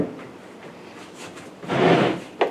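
Plastic latches on a Makita 18V cordless wet/dry vacuum (DVC750LZ) snap shut up close: a soft scrape, then a fuller clunk and a short sharp click.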